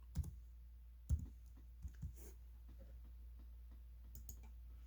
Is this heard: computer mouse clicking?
yes